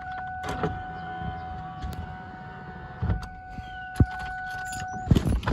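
A New Edge Ford Mustang's electric power window motor whines steadily for several seconds as the glass rolls up, closing with a soft thump and some nearby clicks and handling noises inside the car.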